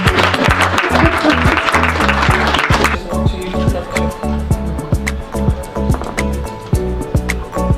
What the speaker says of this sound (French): N'hésitez pas à applaudir